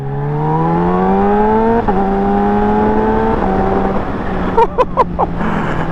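A motorcycle fitted with a cheap $60 aftermarket performance exhaust revs and pulls through the gears, its engine note climbing and stepping up loudly and close, ending with a few sharp pops.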